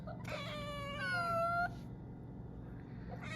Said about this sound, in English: My cats are distracting me